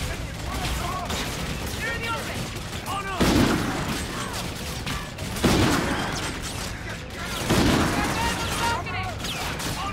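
Frag grenade blasts and heavy gunfire in the sci-fi shooter game Mars Aeternum, with three loud booming bursts over a continuous rattle of weapons fire and combat noise throughout.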